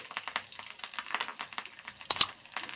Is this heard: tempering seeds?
yes